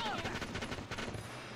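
Faint, rapid machine-gun fire from the Valkyria Chronicles video game patters in quick bursts for a moment, distant and slightly muffled.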